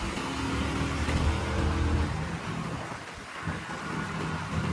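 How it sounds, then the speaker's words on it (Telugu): Rain falls during a motorbike ride through Hyderabad, a steady broadband hiss of rain and wind rushing past the rider at moderate loudness, with no talking. "వర్షం పడుతుంది"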